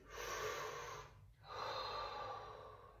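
Two slow, deep breaths in through the nose, close and soft, each drawn out for about a second, taken during a squatting neck-and-shoulder stretch.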